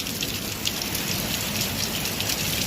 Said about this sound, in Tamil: நம்ம பாருங்க, நல்லா மழை பெய்யுது.